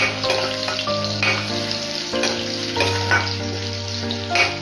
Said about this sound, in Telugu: వెల్లుల్లి ఆయిల్లో బాగా ఫ్రై అయితే ఆ ఫ్లేవర్ చాలా బాగుంటుంది.